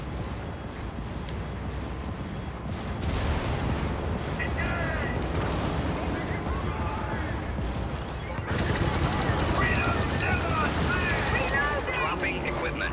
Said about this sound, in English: We are quite close to the artillery now.